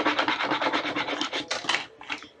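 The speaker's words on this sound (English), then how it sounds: "Squeegee." A squeegee rubbed firmly over transfer tape on a bunny bucket craft, making a series of quick, close scraping strokes in a steady rhythm that grow sharper and louder toward the end.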